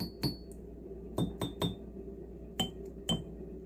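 Several cafe coffee mugs of different weights, heaviest to lightest, tapped one after another with a bright glassy clink and short ring each, six separate strikes spaced irregularly, close and clear with no talk.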